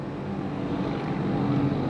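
A car engine left idling while parked, a steady low rumble running evenly throughout with no one talking.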